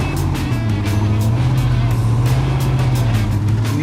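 An off-road truck's engine drones steadily up close as it crawls over sharp boulders on a rough course, the rear diff dragging through, with scraping and knocking layered over the continuous low rumble and no talk.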